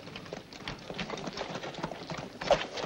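Horses' hooves clip-clop in an irregular stream of soft thuds, several animals moving together at a walk, mid-distance and steady throughout.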